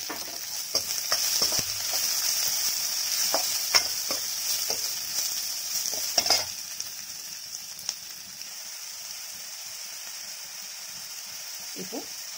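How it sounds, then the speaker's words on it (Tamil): Chopped onions sizzle steadily in hot oil in a pan for an egg and drumstick leaf stir-fry, with occasional scraping stirs and clinks, while someone talks over the cooking. "அடுத்தது 2 வெங்காயம் பொடி பொடியாக நறுக்கி வச்சிருக்கோம் இல்லையா, அதையும் சேர்த்துடலாம்."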